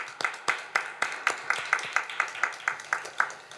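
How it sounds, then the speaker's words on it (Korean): A church congregation claps in unison at a New Year's service, sharp rhythmic beats at a steady quick pace, about four per second, repeating evenly and fairly close. "아버지 하나님께 감사의 박수"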